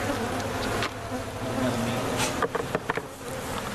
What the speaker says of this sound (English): look at all the bees in there